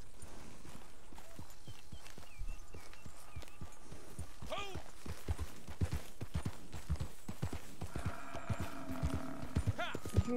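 Rhythmic clip-clop of horse hooves at a steady trot in the video game Red Dead Redemption 2, joined by a whinny and someone talking over it.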